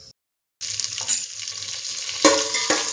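Cumin and mustard seeds fry in hot oil for a sambar, a close hiss that starts suddenly after a short silence, with a couple of sharp crackles from popping seeds.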